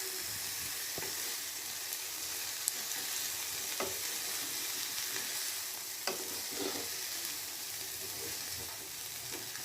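Broccoli stir-fries quietly in a pan over a low flame, giving a soft, even sizzle with a few scattered clicks of stirring.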